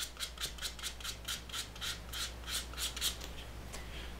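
Fine 320-grit sandpaper rubs back and forth along a freshly knife-cut leather wallet edge in about a dozen quick, even strokes, close and soft over a low background hum.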